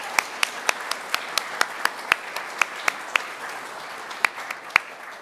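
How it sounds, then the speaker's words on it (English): Scattered, distinct hand claps from an audience at a university science event on astrophysics, applauding Rachel, a longtime Science at Cal director, sounding as a sparse, steady patter of individual claps over a quiet room. "Let's give Rachel a round of applause."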